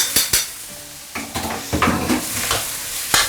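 Rice with egg and diced vegetables stir-fried over medium heat in a pan: a steady sizzle broken by repeated sharp scrapes and clanks of the spatula against the metal, close and fairly loud, with no talking.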